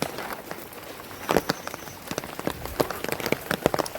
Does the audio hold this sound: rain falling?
yes